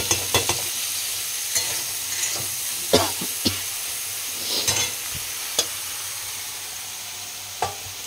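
Eggplant fries in oil in a pan with a steady soft sizzle, broken by sharp clicks and scrapes as the pieces are stirred at irregular intervals. No one speaks.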